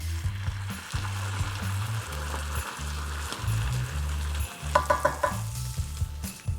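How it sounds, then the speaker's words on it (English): Sherry stirred into a softened mushroom and onion mixture in a pan off the heat, with a steady rhythmic scraping of the spoon, a soft sizzle and a few light clinks, close and continuous. "Now we're gonna add the sherry in it."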